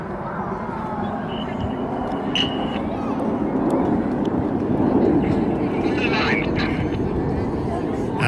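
Display jets pulling up through a vertical break at an air show, a broad continuous roar of jet engines over crowd noise, steady and loud throughout with a slight swell toward the middle.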